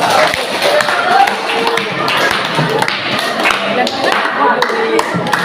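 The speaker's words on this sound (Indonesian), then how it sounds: "Berikan tepuk meriah untuk Nur Aziza." Students and teachers clap for a classmate in a school session, a lively round of scattered, uneven claps with taps and thumps that holds for several seconds.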